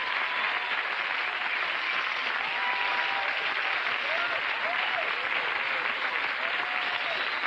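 Steady audience applause fills the whole stretch as a continuous dense wash of clapping at an even level, with faint voices or whoops drifting above it.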